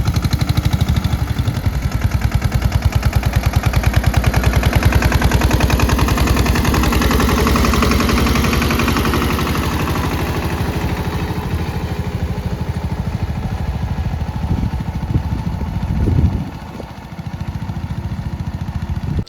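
A tractor engine chugs loudly and steadily up close for the whole stretch, with a brief dip and rattle near the end.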